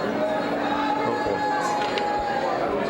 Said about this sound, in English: The huge crowd here continues to grow